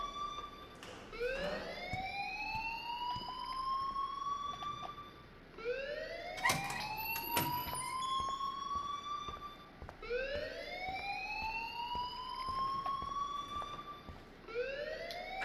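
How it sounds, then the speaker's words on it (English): Alarm siren from the Life Is Strange video game, a repeating rising electronic wail that sweeps upward about every five seconds, loud and steady with no talking over it. "please turn off that alarm since that's your job"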